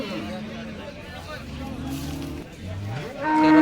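A big cow at the Baramati cattle market moos in long low drawn-out calls, with a rising call at the end, under steady crowd chatter and background market noise.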